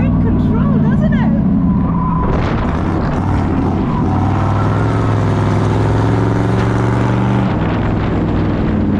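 An engine roars and revs hard as a Chevrolet C10 pickup truck races around an autocross course, loud and continuous, with people talking over it.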